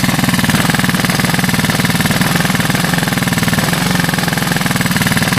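A 1985 Honda ATC 200S three-wheeler engine, started with a GY6 12VDC portable ignition, runs loud and close with a fast, steady, rattling chatter that does not change throughout.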